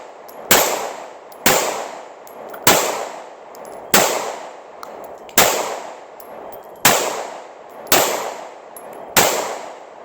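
Pistol fitted with an optic firing at targets in low light, eight loud evenly spaced shots roughly every 1.3 seconds, each a sharp crack with a short decaying echo, no voices.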